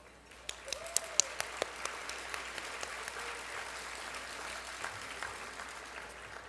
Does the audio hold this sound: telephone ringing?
no